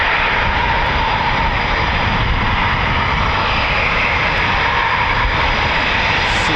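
Eurofighter Typhoon FGR4 jets of 41 Squadron pass over RAF Coningsby, filling the air with a loud, continuous broadband engine roar that holds steady throughout.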